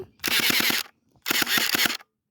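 Electric toy pistol switched on and fired in two bursts of rapid, rattling shots, each lasting about half a second, close and loud with a short pause between them.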